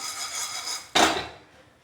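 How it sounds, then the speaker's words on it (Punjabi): A frying pan of roasting chickpeas is shaken once on the stove, giving a sudden bright rattle and scrape of chickpeas against the metal pan that fades over a moment, after a steady background hiss. "ਹੁਣ ਅਸੀਂ ਫਰਾਈ ਪੈਨ ਉਦਾਂ ਹਲਾ ਲਾਂਗੇ ਤਾਂ ਕਿ ਇੱਕੋ ਜਿਹਾ ਸੇਕ ਪਵੇ"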